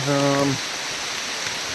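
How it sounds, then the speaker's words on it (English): Pouring rain in rural Vermont, a steady dense hiss of rainfall that carries on evenly throughout, with a brief tonal voice-like sound near the start. "Pouring rain, a little bit of thunder and lightning."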